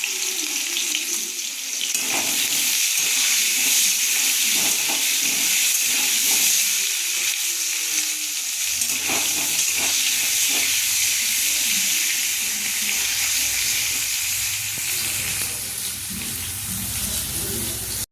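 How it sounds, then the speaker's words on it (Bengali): Potatoes frying in a pan with salt and turmeric give a continuous loud sizzling hiss for the whole stretch, close up and without voices. "আলুটা ভাজা হয়ে গেছে এবারে আলুটা তুলে নেব"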